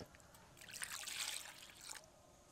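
Cold water trickles faintly into churned butter being stirred for homemade ghee, a brief soft pour lasting about a second and a half.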